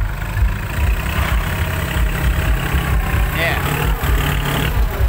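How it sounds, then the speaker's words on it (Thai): A farm tractor engine idles steadily after starting, a loud, close, continuous rumble on muddy ground after a storm, with someone talking over it. "รถไถจะติดแล้วครับ"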